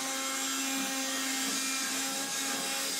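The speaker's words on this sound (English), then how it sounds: "loading the vacuum" A vacuum cleaner runs continuously, a steady whining drone with a constant hum, heard alone at moderate level throughout.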